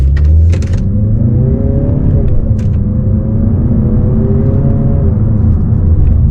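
A 2026 Mazda 3 Select Sport hatchback engine rumbles and revs up as the car accelerates, a steady low drone with rising tones, loud and close throughout.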